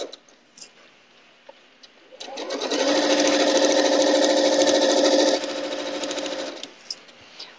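A sewing machine stitches a long quilt seam on a log cabin quilt. After a few quiet clicks it whirs up into a steady, loud run for about three seconds, then slows back to soft single stitches.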